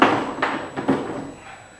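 A drawer of a tool cabinet slides open with two or three quick scraping, clattering bursts, close and fairly loud, then quiet.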